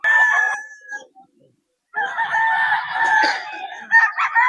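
A Golden Boy sweater gamecock rooster at a farm breeders' poultry market in Bocaue crows loudly and close, breaking off into a short pause before more crowing and clucking calls, with faint voices in the background.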